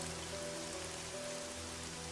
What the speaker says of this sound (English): At the same time, fierce winds brought rain.